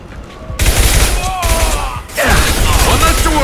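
Gunfire in the video game Mass Effect 2, bursts of shots and combat noise starting abruptly after a quiet lead-in and continuing loud through the rest, with a short dip midway.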